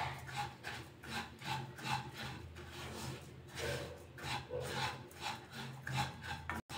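Rice and roasted cashews are stirred in a pan with a spoon, giving quiet, rhythmic scraping and rubbing strokes that repeat about every half second, faint and close.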